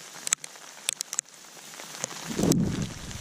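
Hail pelting down in hurricane-force wind on Maigmó mountain at 2 degrees, sharp scattered pattering hits followed by a rising roar of gusting wind and dense hail noise.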